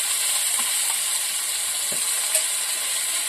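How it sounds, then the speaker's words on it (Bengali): Bombay duck (loitta) fish going into a pan of frying spice paste for a Bengali curry with potato and eggplant, giving a steady close sizzle with a few soft clinks and stirring sounds, no talking. "এবার লোটে মাছগুলোকে দিয়ে দেবো।"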